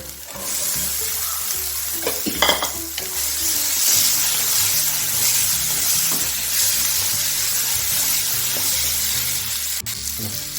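Boiled chickpeas and curry leaves go into a hot pan and sizzle loudly and steadily, with a couple of sharp clatters of stirring near the start.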